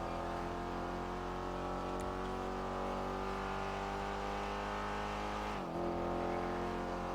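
Steady car engine hum from Grand Theft Auto 5, a sustained droning tone that holds level throughout with a brief dip near the end, loud and close with no talk over it.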